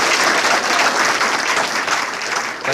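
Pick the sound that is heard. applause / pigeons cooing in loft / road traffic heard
applause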